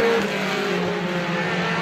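Race cars in a Roadrunners heat race at Star Speedway roar past at close range, a loud continuous engine drone with rising and falling revs, with no voices audible over it.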